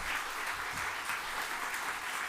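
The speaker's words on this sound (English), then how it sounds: "a final round of applause for our panelists up here." Steady applause from an audience at a community program on the 2024 presidential election, honoring the panelists; a dense, even wash of clapping that holds for a couple of seconds at moderate distance.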